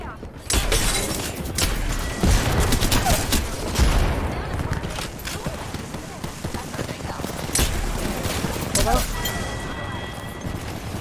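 Gunfire in a ranked Apex Legends match: sharp, rapid bursts of shots and impacts crack out repeatedly, with glassy shattering and in-game voices mixed in.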